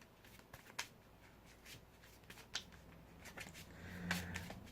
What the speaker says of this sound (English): Not the most interesting viewing, watching me shuffle